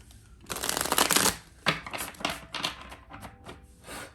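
Tarot cards are shuffled by hand close up, an initial riffling burst followed by several shorter rapid flurries of papery card flicks and taps.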